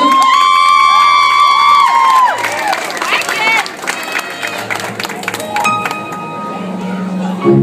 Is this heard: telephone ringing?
no